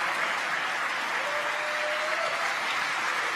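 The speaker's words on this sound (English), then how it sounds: "You can hear the applause behind us." A crowd applauds a rocket booster landing, a dense continuous clatter of clapping held at steady volume throughout, with a faint high tone briefly in the background.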